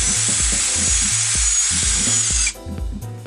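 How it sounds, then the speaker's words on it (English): A power drill bores holes through a plywood back plate for a wooden LED light frame, a steady whining buzz with rhythmic pulsing, then cutting out near the end as the bit stops. "Two holes needed to be drilled through the back plate"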